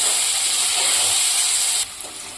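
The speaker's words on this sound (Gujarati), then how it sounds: "પછી ડુંગળી અને લસણ નાખી દઈશું આપણે હવે આપણે આને થોડુંક સાકરશું" Chopped onion and garlic sizzling in hot oil while being sautéed in a pan for a Kathiyawadi potato curry, a steady loud hiss that drops abruptly near the end.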